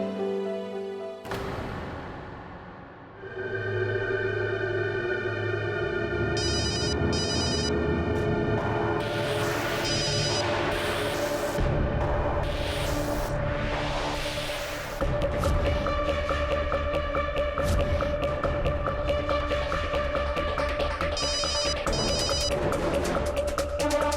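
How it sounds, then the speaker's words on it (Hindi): A telephone rings on and on for about twenty seconds indoors, a steady repeating electronic ringtone with no voices over it. "अरे फोन उठा ले, कुछ अर्जेंट होगा।"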